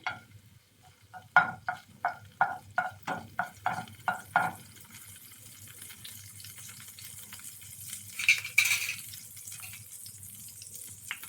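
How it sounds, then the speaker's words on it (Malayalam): Mustard seeds spluttering in hot oil for Nellikka Pachadi, a gooseberry dish: about a dozen sharp, close pops in a quick, even series, then quieter crackling and a brief clatter, with no voices. "കടുക് പൊട്ടി വന്നിട്ടുണ്ട്."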